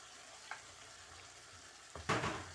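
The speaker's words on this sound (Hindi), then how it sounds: "अब मैं इसमें आलू डालने लगी हूँ।" Potatoes tipped into hot spiced oil that has just separated from the masala, giving a sudden loud sizzle and clatter near the end after a quieter stretch of low frying hiss.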